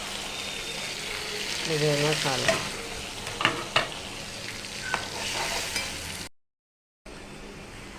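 Tomatoes hit a pan of golden-brown fried onions and sizzle loudly while being stirred for a drumstick and potato curry, steady frying with scraping spoon strokes under a speaking voice, then a brief dropout of sound.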